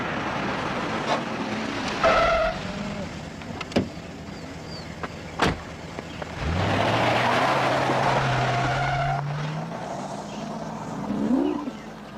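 A moving car, likely a film scene, with engine rumble and road noise that rises into a sustained drone in the second half, plus a few sharp thumps and clicks early on.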